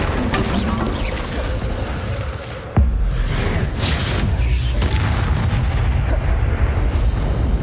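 The Incendio fire spell in Hogwarts Legacy goes off with a deep booming burst near the three-second mark, followed by roaring, crackling fiery rumble and scattered magical effects, loud and close.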